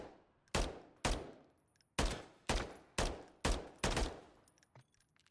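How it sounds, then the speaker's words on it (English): Gunfire from a two-round burst weapon in the video game Modern Warfare 3, a series of sharp, loud reports at roughly half-second intervals, each decaying quickly, with no voices over them. "So when you pull the trigger, it fires 2 rounds."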